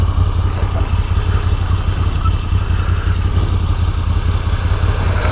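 A Moto Guzzi V7 Stone motorcycle being ridden with a jerky throttle, its engine droning loud and steady close by, with a low thrum and mechanical clatter throughout.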